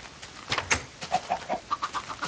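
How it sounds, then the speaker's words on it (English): Chickens in Minecraft let out a quick run of short, clipped clucks, about a dozen in a row, clear and close with no talking over them. "Chickens freaking got out."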